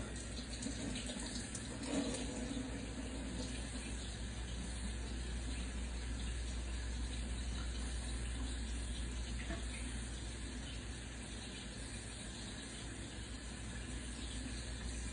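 Tap water runs steadily in a home kitchen sink, rinsing freshly made butter, a soft continuous stream at low level with no break.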